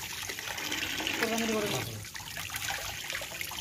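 Water running over sacrificial beef pieces as they are washed, a steady close splashing flow, with a voice speaking over it.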